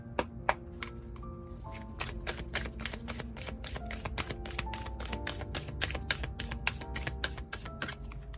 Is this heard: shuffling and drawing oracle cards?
yes